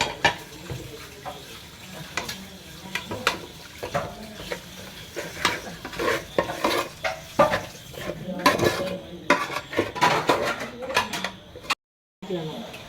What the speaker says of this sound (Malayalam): നമ്മൾ പുരട്ടി വെച്ച ചിക്കൻ ഇതിലേക്ക് നമ്മൾ ആഡ് ചെയ്തു. ഇനി നമ്മളിത് നല്ലോണം ഇളക്കി കൊടുക്കുക.